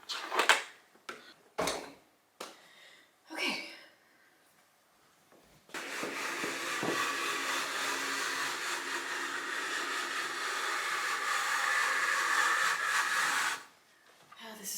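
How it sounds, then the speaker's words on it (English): A household vacuum cleaner switches on after a few scattered knocks and handling sounds, then drones loudly and steadily for about eight seconds before cutting off abruptly. "Okay, vacuum."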